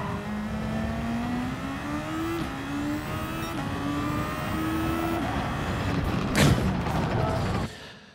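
In Gran Turismo 7 a race car's engine climbs steadily in pitch as it accelerates out of braking, with stepped rises at each gear change and a single sharp knock near the end, all sounding alone without talk.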